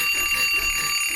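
Cartoon alarm clock ringing with a shrill, continuous electronic tone, steady and moderately loud for about a second, with no talk over it.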